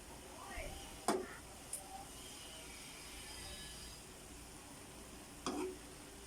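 Soy sauce hits sizzling adobong sitaw, string beans cooked with vinegar in a pan, giving a soft steady hiss broken by a few brief clinks of a utensil.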